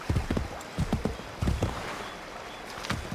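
Horse hooves clip-clop in a quick galloping rhythm in Assassin's Creed 3, loud and close, with a brief whinny-like tone and faint game ambience.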